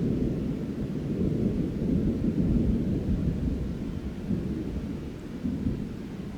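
Thunder rolls before a thunderstorm outdoors in the woods: a continuous low, deep rumble that swells and eases over several seconds, fairly loud, with no voices.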